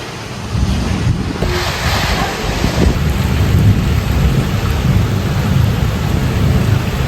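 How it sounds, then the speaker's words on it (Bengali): Heavy downpour with a deep continuous rumble, loud and enveloping, a constant roar of rain with low thundery weight and no voices. "এটা তো অনেক বৃষ্টি দেখলাম"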